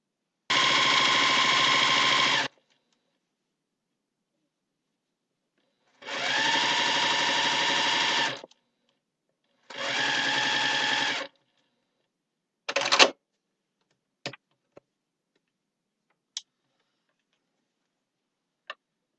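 Sewing machine stitching the final seam of a jelly roll table runner: three steady whirring runs of a few seconds each, close by, then a handful of short clicks and taps in near silence.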